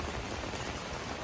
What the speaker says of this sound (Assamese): পূৰা শিল বৰষুণ